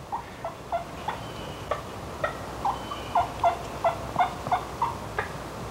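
Wild turkey gobbler gobbling outdoors in woods, a rapid series of about a dozen short, bright, rattling calls at moderate distance, evenly spaced over several seconds with no talk.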